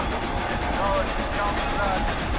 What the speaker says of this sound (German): Da ist der Zug.